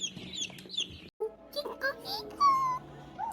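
Baby chicks being raised as meat birds chirp and peep in high, brief calls scattered through the clip, close by, while a person talks softly over them.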